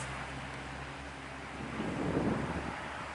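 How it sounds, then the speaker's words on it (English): Wind gusting across an open historic cemetery, a steady broadband rush that swells slightly toward the end, with buffeting against the microphone and no voices. "The wind's picking up too."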